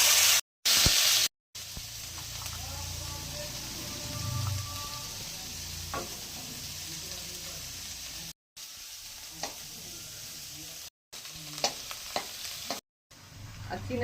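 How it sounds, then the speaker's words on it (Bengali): Carrots and beans sizzle steadily in melted ghee in a pan, with repeated scraping stirs from a spoon and a few brief dropouts, close and fairly loud with no talking. "এবার গাজর আর বিনসটা দিয়ে দেবো।"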